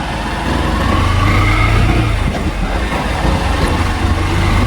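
A modified TVS Raider motorcycle, its exhaust apparently running without a silencer, gives a loud, continuous, rumbling engine roar close by, with no pauses.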